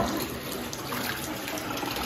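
Water rushes steadily out of a cast iron claw foot tub after the stopper is pulled, making a continuous, fairly close hiss and gurgle with no talk.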